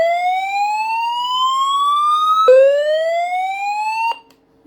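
An SOS alarm siren on a hand crank emergency radio rises in two long upward sweeps, each resetting abruptly, loud and piercing, then cuts off into silence.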